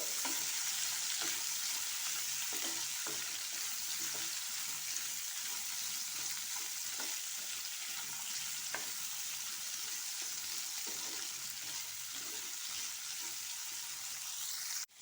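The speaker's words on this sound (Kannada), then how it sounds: "ಇದನ್ನು ಚೆನ್ನಾಗಿ ಫ್ರೈ ಮಾಡಬೇಕು ಫ್ರೆಂಡ್ಸ್ ಈ ಆಯಿಲಲ್ಲಿ" Cubed capsicum and besan fry in hot oil, giving a steady, bright sizzle throughout with faint scattered clicks of stirring, heard close and alone until an abrupt cut at the end.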